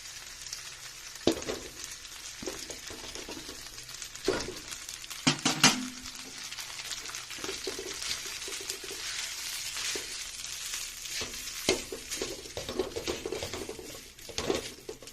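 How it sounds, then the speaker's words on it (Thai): Rice stir-fried with shrimp paste in a pan crackles and sizzles steadily, with repeated scraping stirs and pan knocks, fairly quiet and close, no voices. "ผัดจนกว่าแห้งให้แห้งหน่อย"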